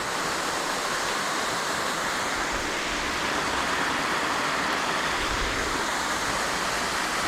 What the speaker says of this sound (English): So we're currently at Fairy Glen Falls